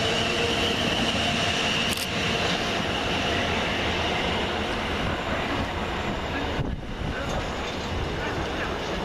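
Several South Western Railway class 450 electric multiple units depart Surbiton station on a London Waterloo to Basingstoke service, a loud, continuous rumble of motors and wheels on rails filling the platform, with a brief squeal and clatter partway through.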